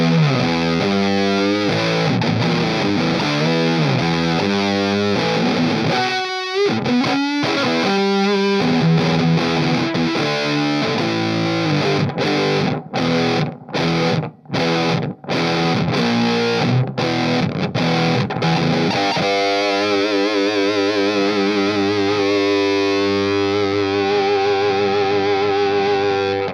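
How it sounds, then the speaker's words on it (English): Electric guitar played through a Vox Tone Bender Mark II fuzz pedal, thick saturated distortion throughout, with riffs, choppy stabs and silences in the middle, then sustained fuzzy chords ringing near and loud. "this is the Mark II tone bender, and just an absolutely killer sounding"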